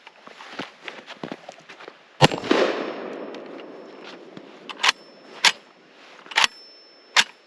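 A semi-automatic 12 gauge shotgun fires outdoors in a series of sharp, loud blasts spaced irregularly, one followed by a longer rumbling tail, with fainter clicks and handling noises between shots.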